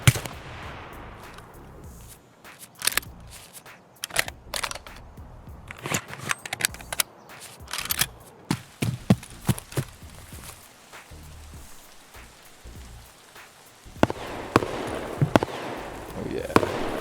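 Rapid gunshots and bursts of fire crack repeatedly in Escape From Tarkov, with an OP-SKS among the weapons, some close and sharp, others more distant, with sporadic talk in between.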